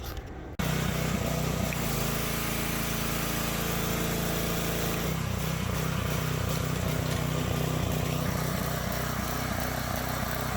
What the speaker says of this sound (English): I'm just going to try to, run all the gasoline out of this machine.